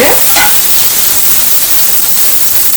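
Onions sautéing in a pan until golden, with a steady close broadband sizzle and a couple of brief stirring scrapes near the start, no talk.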